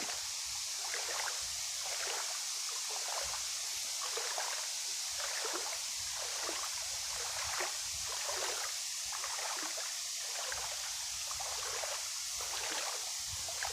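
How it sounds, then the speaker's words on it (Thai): Flood water from the overflowing Mun River runs across a footpath through rice fields in Chumphon Buri district, Surin province, making a steady, continuous rushing and trickling wash with no pause. "ไปไหนก็ เจอแต่น้ำท่วมนะครับ น้ำท่วมทางนะครับ"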